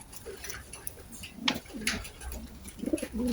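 Racing pigeons cooing while bathing, giving soft, low, rolling coos close by over steady background noise, with a faint voice now and then.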